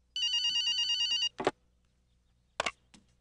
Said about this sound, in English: Starting to hate that phone.